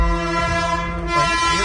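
A train rumbles and sounds its horn close by at a railway crossing in a Punjab village, a sustained loud passage with no voices.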